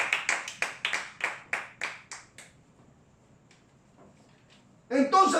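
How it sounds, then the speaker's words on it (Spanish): A church congregation claps in quick rhythmic bursts, about a dozen sharp claps over two seconds that fade out, followed by quiet and then a voice speaking. "Démosle el más fuerte aplauso a nuestro Señor"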